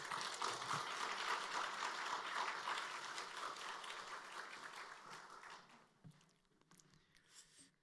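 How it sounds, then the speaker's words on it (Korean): A church congregation gives loud, steady applause welcoming a pastor to the pulpit before his sermon; the clapping fades around six seconds, leaving quieter room sounds and a few scattered claps. "우리 목사님 나오실 때 우리 큰 박수로 환영하겠습니다."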